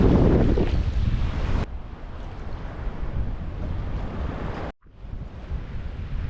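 Waves wash onto a gold sandy beach with a warm sea in south Lombok, a steady close roar of surf heavily buffeted by wind rumbling across the microphone, with a brief dropout near the end.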